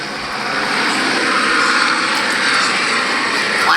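Aircraft flying low overhead, a loud steady engine roar that fills the whole stretch without fading, consistent with a helicopter passing right above.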